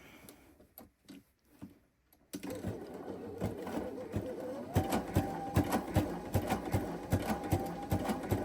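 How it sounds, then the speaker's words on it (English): A Baby Lock Sashiko sewing machine stitching down a fabric edge: after a few brief starts, a steady rapid mechanical chatter of stitching runs close and loud, with no voice over it. "To sew down this edge, I'm just going to use the Baby Lock Sashiko. It's going to give that fun stitching around it."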